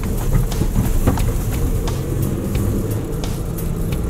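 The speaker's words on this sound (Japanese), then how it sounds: "それではもう一回走行します" A Suzuki Jimny JB23 drives along after a steering wheel adjustment, with a loud, continuous low engine and road rumble heard close up, likely from inside the vehicle.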